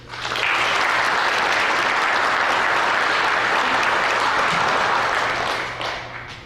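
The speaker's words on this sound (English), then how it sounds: "Let's give a round of applause one more time for the graduates." A room of people applauds the graduates of a practical nursing school at a graduation and pinning ceremony. The clapping is loud, dense and continuous for several seconds before easing off at the end.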